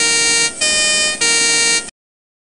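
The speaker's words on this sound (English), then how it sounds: "this one sound like a freight truck siren as well" A siren resembling a freight truck's horn blares loud and alone in a steady harmonic tone, broken by two brief dips before cutting off abruptly after about two seconds.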